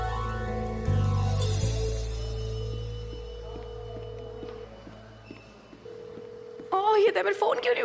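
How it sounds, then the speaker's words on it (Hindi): A phone line plays a long series of steady electronic tones and beeps, then a person begins talking near the end. "ये देमिर फोन क्यों नहीं उठाता है?"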